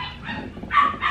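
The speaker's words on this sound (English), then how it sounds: "Damn dogs. I thought that dog was over there." A neighborhood dog near a retired expat's home in the Philippines gives a few short, sharp barks and yips, fairly close and loud, with no one talking.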